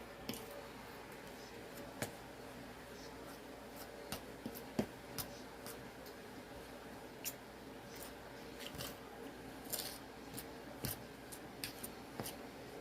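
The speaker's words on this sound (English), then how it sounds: "Use a fork like I'm using so that you can cut in, not a spoon." A fork cuts shortening into flour for a peach cobbler crust, giving soft, scattered scraping ticks and clicks at irregular intervals, faint and close against a quiet background.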